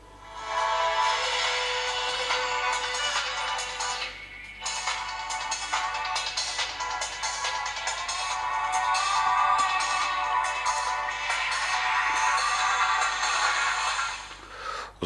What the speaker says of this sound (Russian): Звук очень громкий, слышно хорошо, звонок не пропустим.